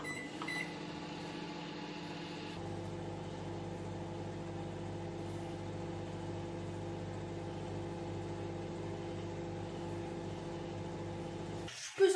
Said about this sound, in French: Donc maintenant on peut le mettre au micro-ondes